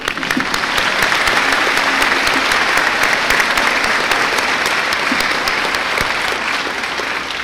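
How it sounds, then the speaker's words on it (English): A university fall convocation audience gives new faculty a sustained, loud round of applause, dense and even throughout, easing off slightly near the end. "Let's give them a round of applause."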